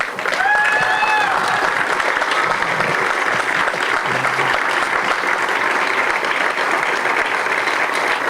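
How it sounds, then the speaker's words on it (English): Sustained audience applause at a stadium event welcoming a new professional soccer club, steady and loud throughout, with a short whistle or cheer near the start. "We deserve a great round of applause for them as well."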